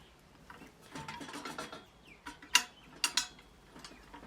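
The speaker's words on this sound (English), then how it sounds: "put a washer, one of our spring washers, and one of our nuts, tighten that up, repeat the process" A nut is tightened down onto a spring washer during assembly of a Fillpak TT, giving a few quiet, sharp metallic clicks and ratcheting ticks spaced irregularly across a hushed background.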